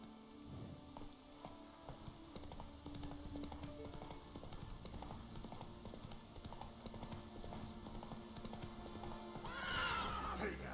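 Roach the horse trots in The Witcher 3 with steady rhythmic hoof clip-clops over a constant background of rain, and a whinny rises near the end.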